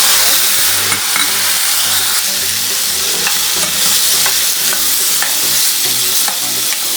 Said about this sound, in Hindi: तो चिकन यहाँ अच्छी खासी फ्राई हो गई